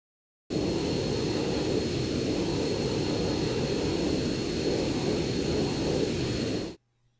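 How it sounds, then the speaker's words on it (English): A jet plane in the Arma 3 video game accelerating, a loud, steady roar that holds for about six seconds and then cuts off abruptly, with no voices. "The trigger waits only for the plane to accelerate to 150 km, only then it activates itself."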